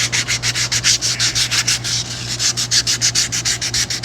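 Rifle wood stock being hand-sanded with 220 grit sandpaper, a fast, regular run of close, raspy back-and-forth strokes that continues steadily without pause.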